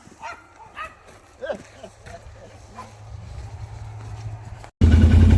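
A dog barks and whimpers a few times nearby among talk, then a loud engine rumble cuts in at the end.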